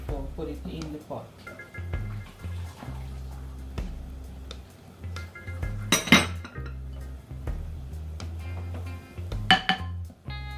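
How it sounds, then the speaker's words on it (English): A spoon clinks and scrapes around a bowl while a cornmeal mixture for Jamaican cornmeal porridge is stirred before going into the pot, with intermittent metallic knocks and sharper clinks near six and ten seconds, under a person talking nearby. "So mix it up first before we put it in the pot."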